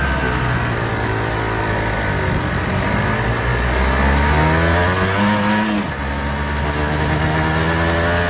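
Honda NS 125 R motorcycle engine running loud and steady, with a pitch dip and rise around the sixth second as it is started up and shifted into first gear; no talking.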